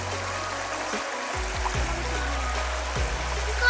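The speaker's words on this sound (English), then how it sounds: "Here's where the actual river is still flowing" The shallow Gerstle River in Alaska flows quickly over its bed, a steady broadband rush of moving water heard close by throughout, with no talk.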